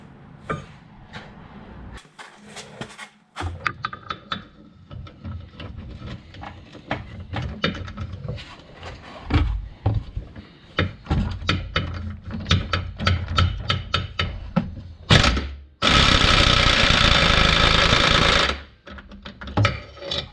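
An impact gun blasts loose a ball joint bolt on a Hyundai Santa Fe, first scattered tapping and clanks, then a loud, sustained burst of rattling impact hammering for about three seconds before stopping.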